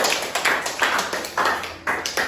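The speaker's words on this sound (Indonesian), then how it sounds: "Tepuk tangan untuk kelompok satu." A classroom audience claps for a group presentation, with about six loose rhythmic bursts of applause from a small group heard nearby.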